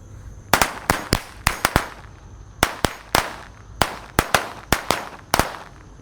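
Thirty match-type firecrackers lit in a row burst off in quick succession, a dozen or so sharp cracks in uneven clusters. They ring out loud and close over a faint steady whine.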